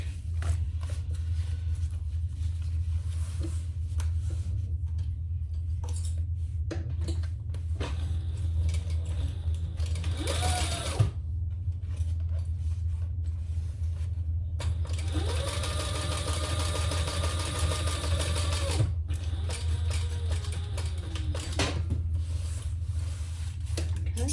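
A sewing machine top stitches the gusset of a crossbody bag in several short and longer runs of rapid stitching, heard up close over a constant low background hum.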